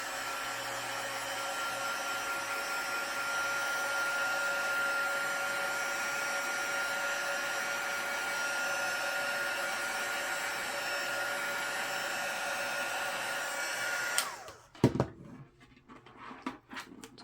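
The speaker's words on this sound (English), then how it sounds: "First, I'm going to remove the labels with my heat gun." A heat gun blows steadily to loosen label glue on plastic yard decor, a constant close whooshing hum that stops near the end, followed by a few handling clatters.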